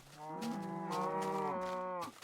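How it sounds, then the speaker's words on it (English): Several cows in Minecraft Beta moo almost in unison, a loud, drawn-out chorus of overlapping lowing calls lasting about two seconds, with no talking over it. "It's a lot of cows. To our... And they all mooed at once, very nice."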